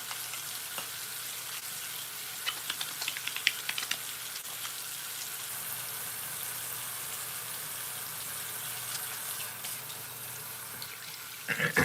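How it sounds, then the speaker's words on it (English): Warm tap water runs continuously into a sink during handwashing, a steady hissing splash with small irregular spatters, fairly quiet and without any talking. "I like to use like warm, approaching hot water"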